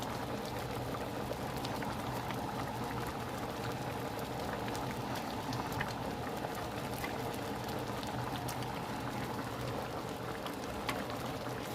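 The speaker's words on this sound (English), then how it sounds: "They can start simmering and smothering in that beautiful gravy." Hamburger steaks simmer in thick gravy with a steady, soft bubbling and popping that continues evenly throughout, quiet and close, no voices.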